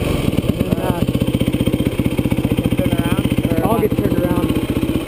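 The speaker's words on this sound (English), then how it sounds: "You have to pull in the clutch to start it, even though you don't need the clutch." A motorcycle engine catches and settles into a steady, rapidly pulsing idle, close and fairly loud throughout, with brief voices faintly heard over it.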